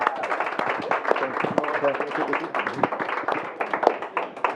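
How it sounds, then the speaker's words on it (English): A crowd applauds a guest at a virtual event, steady dense clapping with scattered claps and brief voices mixed in throughout. "Let's give him a round of applause."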